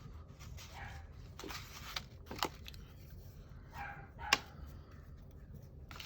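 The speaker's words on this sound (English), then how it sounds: "You can hear a dog barking." A dog gives a few faint, distant barks and yips, scattered over quiet room noise with no talking.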